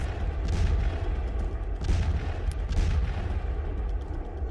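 Chinese-made SH-15 howitzer artillery fires in heavy, rumbling booms, with low thuds around the one- and two-second marks set against a continuous deep roar.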